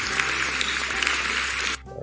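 A clapping sound effect of a crowd applauding steadily and densely at constant loudness, then cutting off sharply near the end, leaving a faint background hum.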